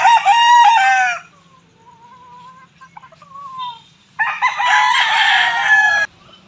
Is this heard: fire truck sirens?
no